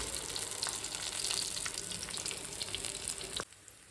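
Tikki patties fry in oil with a soft, continuous crackling sizzle that stays faint and steady, then cuts off abruptly just before the end.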